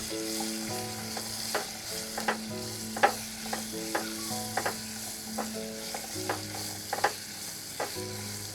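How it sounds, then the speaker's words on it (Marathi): Raw mango pieces are stirred into a hot spice tempering: irregular scraping, clacking spoon strokes over a soft sizzle, with a steady melodic tone running quietly underneath throughout. "इथे कैरी फोडणीमध्ये मिक्स करून घेतली आहे"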